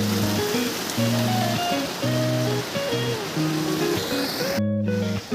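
Rushing water at Birthi Falls in Uttarakhand pours as a steady broadband roar, with low tonal music-like bands layered over it through most of the stretch and a brief burst near the end.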